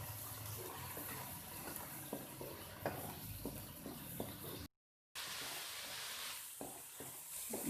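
Boneless chicken pieces fry in a pan with a steady close sizzle while being stirred, scraping and clinking now and then, with a brief dropout partway through.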